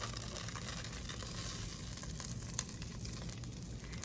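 A second batch of beef fries in oil in a pan, a quiet, even hiss of sizzling that runs throughout with one small clink, heard alone.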